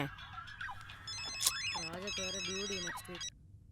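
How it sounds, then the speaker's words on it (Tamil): A mobile phone rings in a Tamil comedy film scene, playing a melodic ringtone of short repeating electronic notes with brief sliding tones. It sounds clear and fairly close, with voices and background sound mixed in, and it cuts off just before the end. "செல் அடிக்குது எட."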